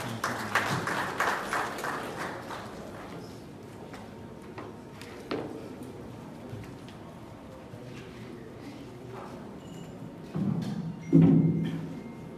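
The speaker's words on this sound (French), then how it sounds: "Sous vos applaudissements, s'il vous plaît" An audience at a corporate banking launch event in Senegal claps in a scattered, moderately loud burst that thins out, then swells briefly again near the end.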